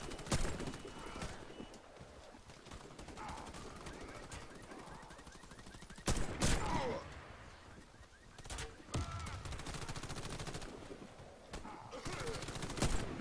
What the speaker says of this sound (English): Aiming for the head and just shooting once.